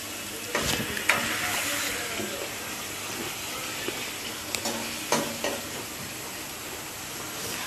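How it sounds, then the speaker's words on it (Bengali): Fish pieces frying in oil in a home kitchen pan as they are turned, giving a steady low sizzle with a few sharp utensil scrapes and clinks scattered through. "আম্মু এখন মাছগুলোকে উল্টিয়ে পাল্টিয়ে নিচ্ছে"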